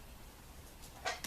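A single sharp plastic snap near the end as a clip of a cheap wireless lavalier microphone casing pops open, brief and close, following quiet handling noise.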